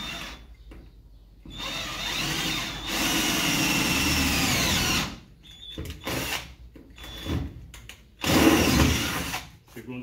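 Power drill boring holes to mount protective window grilles on a Kombi van, heard in several whining bursts of a few seconds each, separated by pauses, fairly close.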